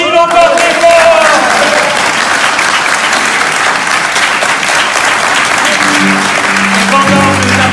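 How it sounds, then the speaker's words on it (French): A church congregation claps loudly and steadily for the gospel, a dense roar of applause filling the room throughout, with voices calling out over it and a sustained tone rising near the end. "On va applaudir l'évangile encore très fort!"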